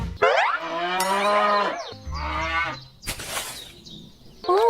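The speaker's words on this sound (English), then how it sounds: "Oh, the cows are being picky about the hay." Several cattle moo loudly and close by over hay, with long drawn-out calls that overlap and follow one another, separated by short gaps, and a fresh moo starts right at the end.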